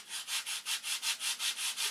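A model airplane is sanded by hand, producing about ten rhythmic back-and-forth scraping strokes, evenly spaced and close, with no talk.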